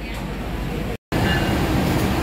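Diesel rumble of the CC 206 1383 locomotive heading the Argo Bromo Anggrek train, a steady loud broadband drone with a brief dropout in the middle, no talk.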